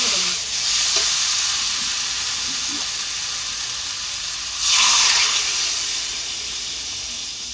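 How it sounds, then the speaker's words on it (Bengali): Broth is poured into a frying fish and potato curry, giving a loud steady sizzle and hiss throughout with a brief surge of rushing liquid midway, no voices. "কষা হয়ে গেছে, আমি ঝোল ঢেলে দেবো।"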